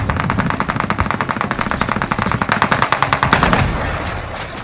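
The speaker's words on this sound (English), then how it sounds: "Oh, they're shooting." Rapid automatic gunfire from Call of Duty: Warzone, a loud, sustained burst of closely spaced shots that rattles on steadily with no break for several seconds.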